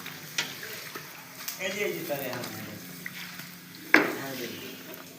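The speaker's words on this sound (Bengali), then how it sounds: "আর এই যে লুচি ভাজা হচ্ছে" Luchi, a puffed Bengali bread, frying in a pan of hot oil gives a bubbling sizzle. The oil hisses under lively nearby talk, and a sharp clatter of a utensil comes near the end.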